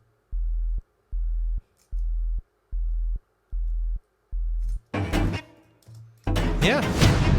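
A basic sine wave from the EX24 sampler plays as seven evenly spaced, pure, low pulses that repeat in a steady rhythm. Louder, layered music hits then break in over the last stretch.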